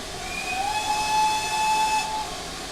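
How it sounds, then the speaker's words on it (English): Steam whistle of a Manor Class locomotive, a single long steady blast that sounds loud and close over a hissing background, lasting nearly two seconds before cutting off. "Whistle to move."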